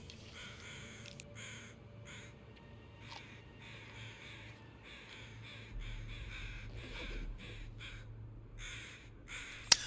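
Crow cawing in The Long Dark survival video game, a steady series of harsh, evenly spaced caws, moderately near, over a quiet wind-like background.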